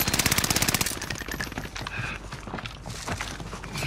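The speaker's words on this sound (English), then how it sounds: "Sustained fire here" Sustained automatic gunfire in a war video game, a rapid even burst of shots up front that gives way to scattered firing, explosions and game noise, loud and close throughout.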